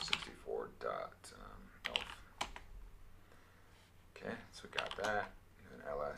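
Keystrokes on a computer keyboard as commands are typed into a Linux shell during a hacking exercise, several short bursts of clicking interleaved with quiet talk.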